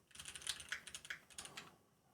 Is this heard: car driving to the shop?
no